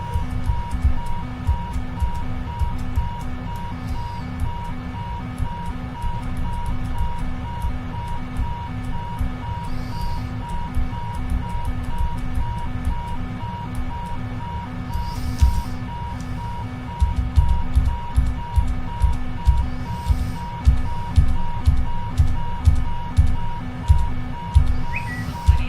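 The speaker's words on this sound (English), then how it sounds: "I got an alarm going off" A cockpit alarm sounds in the PMDG 777F freighter flight simulator game, a steady repeating electronic tone over a constant engine and cockpit hum lasting throughout, with louder rumbling bursts toward the end.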